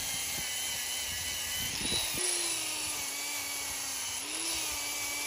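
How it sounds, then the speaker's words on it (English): A bench wire wheel spins steadily while it scrubs rust off a Bridgeport mill quill feed wheel, giving a continuous close whir and grinding hiss, with the pitch dipping briefly as the part is pressed in. "I think I'm gonna clean this up on the wire wheel there and just get some of this rust"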